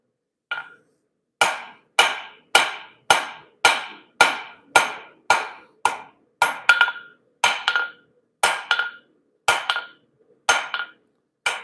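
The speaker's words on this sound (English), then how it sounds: "I want to keep hitting the same spot with my hammer." Hammer blows ringing on a hot railroad spike being forged, a steady series of about fifteen sharp, loud strikes with brief pauses between them.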